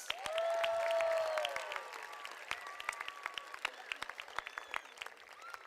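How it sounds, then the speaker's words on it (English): A crowd at a high school graduation ceremony applauds, with steady clapping from many hands filling a large space and a few whoops early on, thinning gradually toward scattered claps. "One round of applause."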